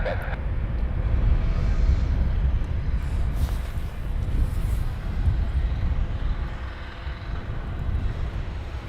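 Eurofighter Typhoon jets taxi at RAF Coningsby, giving a continuous low roar with some wind buffeting. The sound stays steady and fairly loud, and faint talk may sit underneath.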